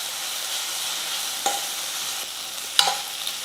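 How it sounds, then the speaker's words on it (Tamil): Ginger garlic paste and onions sizzle steadily in a hot pan for poori potato masala, with a few soft scrapes of a spoon stirring them. "இப்போ இஞ்சி பூண்டு பேஸ்ட்டு பச்சை வாசனை போகிற அளவுக்கு நல்லா வதக்கிக்கலாம்."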